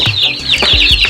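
Close broody hens, Brahma and native chickens, clucking in a quick series of throaty, rising calls, loud and clear with no talking.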